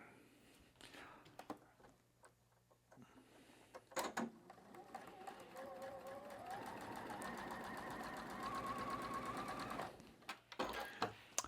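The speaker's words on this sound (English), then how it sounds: "And now as it comes out of the machine" A sewing machine stitches a fabric quilt block, a quiet steady stitching run of about six seconds with soft handling noises before and after.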